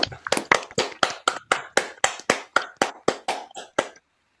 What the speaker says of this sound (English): Should we give Todd a round of applause?